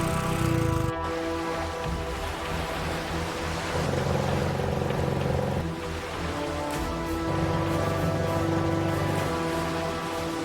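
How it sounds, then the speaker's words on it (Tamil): A boat engine drones steadily over water and shifts in pitch and intensity as the craft nears the Thiruvanmiyur beach shore. The sound fills the clip without pause. "டேய் போட் வந்துருச்சுடா"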